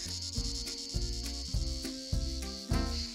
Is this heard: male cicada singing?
yes